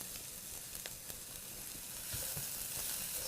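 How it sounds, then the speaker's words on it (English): Lean ground beef hitting a pan of sautéed goulash vegetables gives a steady, close sizzle with brief crackles and a few stirring scrapes, growing a little louder toward the end. "We'll add the pound of lean ground beef in"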